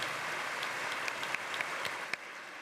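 An audience at a workshop of the Internet Governance Forum 2023 applauds the speakers with steady, dense clapping from a moderately sized crowd, a few sharper claps standing out, and no talking.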